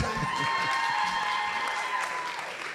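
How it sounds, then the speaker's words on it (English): An audience applauds at a cerebral palsy conference, steady clapping that fades slightly toward the end with a faint ringing tone underneath. "Can we give him a round of applause?"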